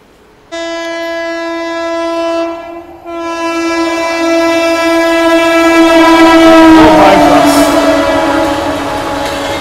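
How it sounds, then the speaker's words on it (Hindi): The Anand Vihar–Rewa Express, an Indian passenger train, rushes past at speed with a loud, sustained horn blast that drops briefly and then swells into a rumbling roar of passing coaches. "रीवा एक्सप्रेस, आनंद विहार रीवा। भाई क्या रफ्तार में निकली है।"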